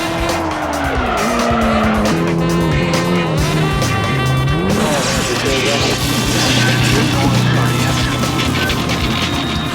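Race cars from the Gran Turismo video game screech through corners, with loud tire squeal and skidding over revving, shifting engine tones, close and continuous with speech mixed underneath.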